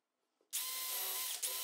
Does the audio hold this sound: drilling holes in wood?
yes